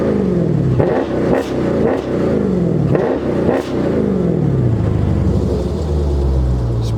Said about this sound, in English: We'll give her a couple revs.